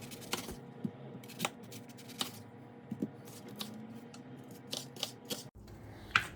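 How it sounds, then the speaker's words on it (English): Knife chopping an onion on a cutting board, a series of irregular sharp taps and short slicing strokes over quiet background, close and moderately faint, with no talking. "So first we're going to cut our onion"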